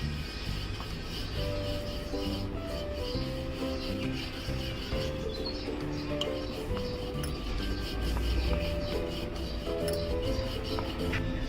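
Puran poli dough dusted with rice flour is rolled out on a wooden rolling board, giving a steady soft rubbing and rasping sound that runs continuously under a busy kitchen background with faint tonal hum.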